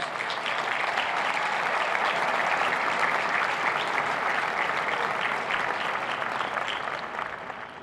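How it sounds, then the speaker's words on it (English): A round of applause for the Army band at a university final exercises ceremony, a broad sustained clapping from a large crowd that stays steady before tapering off near the end. "Please join me in giving them a round of applause"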